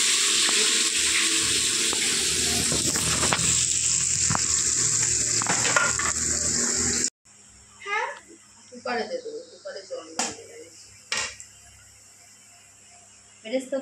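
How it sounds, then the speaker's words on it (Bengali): Onions fry in hot oil for beresta in the same oil used for potatoes, a loud dense sizzle for about seven seconds, then quieter clinks and a speaking voice over faint cooking sounds. "আলুগুলো এই একই তেলে বেরেস্তাগুলো করে নেব"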